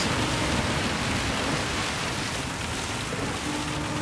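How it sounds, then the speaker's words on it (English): Heavy rain in the racing video game Gran Turismo 7, a dense, even hiss of downpour filling the whole stretch at steady loudness with no voices. "Heavy rain coming in."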